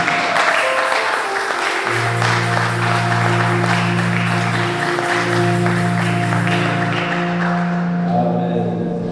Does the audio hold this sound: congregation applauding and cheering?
yes